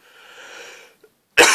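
A man coughs once, sharp and close, after a stretch of quieter breathy noise and a brief pause.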